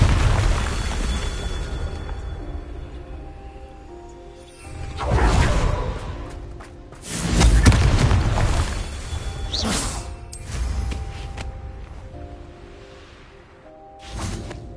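Spell blasts and booming explosions in the Hogwarts Legacy game, several separate heavy bursts at about five, seven and a half and fourteen seconds over a steady game ambience with whooshing tails, no talk.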